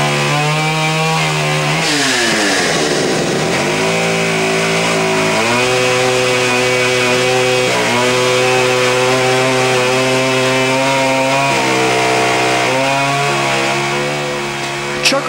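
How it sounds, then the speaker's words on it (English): A chainsaw cuts into a large 4 by 8 foot sheet of plywood in an artist's studio, its engine loud and close, pitch dropping under load and rising again across repeated passes. "Arnoldi uses a chainsaw like other artists use brushes."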